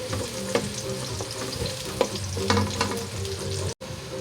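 Sliced onions sizzle and fry in a pan for chicken pochero, a steady close crackle broken by a few stirring scrapes and clinks, with no one talking.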